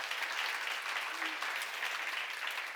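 A seminar audience in a church-style hall applauds, a steady wash of many hands clapping that stays even throughout, somewhat distant and moderately quiet.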